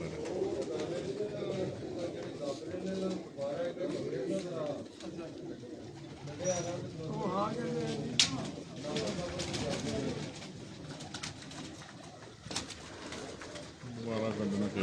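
Pigeons coo repeatedly in soft, rolling calls on a rooftop where pigeon fanciers keep their birds, the cooing running close by beneath ongoing conversation among several people.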